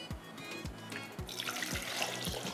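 Water is poured into a pot for boiling eggs in a home kitchen: a few soft thumps, then a steady, close splashing gush of running water that fills the rest of the moment, with no talking.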